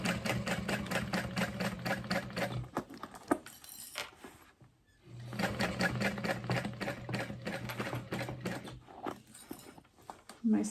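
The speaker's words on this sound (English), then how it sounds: "I'm going to sew next to, but not through the piping" A sewing machine runs in fast rhythmic bursts as it stitches next to the piping on a tote bag. It stops briefly partway through, then starts again, with the motor humming under the close needle clatter.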